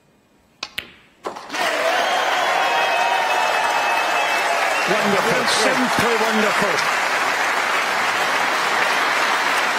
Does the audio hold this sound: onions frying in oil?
no